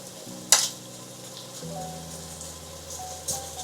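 Kashmiri chilli powder, coriander-cumin and other spices stirred together in a frying pan while cooking Porbandar-style pav ragda, a steady soft sizzle with scraping stirs close up and a sharp clink or two.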